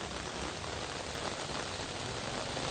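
Heavy rain pours down steadily in Ajmer, a dense, even wash of falling water and drops striking surfaces, close and constant throughout with no voices.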